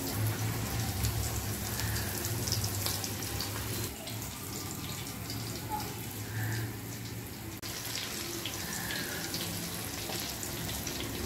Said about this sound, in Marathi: हाय टू मीडियम फ्लेमवरती आपल्याला मच्छी तळून घ्यायची आहे।